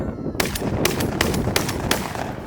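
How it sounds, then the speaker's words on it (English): A SPAS 12 shotgun fires five loud, sharp blasts in a fairly steady rhythm. Each shot rings out over a noisy outdoor background, and no one speaks. "what does it feel like to shoot the Spaz 12?"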